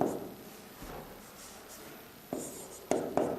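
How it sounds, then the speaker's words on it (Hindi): Writing on a board during a chemistry lesson, with a soft continuous scratching stroke followed by a few sharper taps and short strokes, close and without talk over it. "यहां लिख दे रहे हैं"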